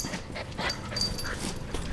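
A goldendoodle puppy pants rapidly and close by, with faint whimpering mixed into the steady breathing.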